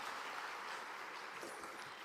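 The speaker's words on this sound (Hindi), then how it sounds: "ताली बजा के सुदीक्षा का स्वागत कीजिए।" An audience at a girls' safety and awareness event claps in a steady, fairly soft patter of applause that fills the moment.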